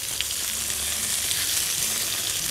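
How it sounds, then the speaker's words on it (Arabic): Meat browning in a pan for Egyptian fatta sizzles steadily and loudly, a continuous dense crackle of frying with no voices over it. "بس انا قلت المره دي نعملها بالطريقه التقليديه خالص اللي هي تحمير اللحمه العادي"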